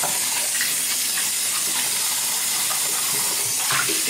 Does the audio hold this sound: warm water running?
yes